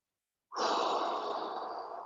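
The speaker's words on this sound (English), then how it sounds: "this is the part where we kind of get some deep breaths in" A single deep, long exhale during a stretching exercise, close and clear, rising suddenly and sustained as a steady airy rush with no talking.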